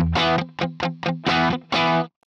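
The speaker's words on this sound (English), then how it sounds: "that's just a little cathedral reverb, uh, really low mix, but it's there to just kind of tie everything together" An electric guitar played through a Fractal FM9 with delay and a low-mix cathedral reverb sounds a series of distorted chords and short stabs, loud and close, with a brief tail at the end.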